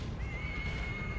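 Pigs squeal and scream in the dark fantasy video game Darkest Dungeon, a single sustained shrill cry held for about a second over low rumbling game ambience.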